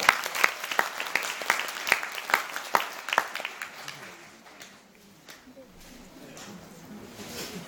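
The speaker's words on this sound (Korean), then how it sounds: "박수 한 번 주세요" An audience claps for a few seconds, a dense burst of applause that thins out and fades into quieter room noise and murmuring.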